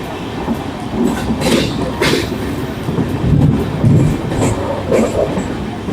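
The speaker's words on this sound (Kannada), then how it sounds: "ಹೊಸ ಅಗ್ರಹಾರ ನಮ್ಮ ಟ್ರೈನ್ ಸ್ಕಿಪ್ ಮಾಡ್ತಾ ಇದೆ ಇವಾಗ" A train rolling through Hosa Agrahara station without stopping, with a steady rumble and faint rhythmic clacking of wheels, heard from inside, no talking.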